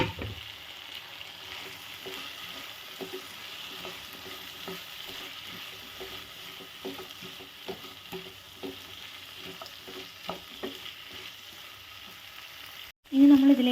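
Large capsicum pieces sizzle and fry with mushrooms in a pan for a restaurant-style mushroom chilli, with steady stirring scrapes over a constant hiss, ending in a louder burst.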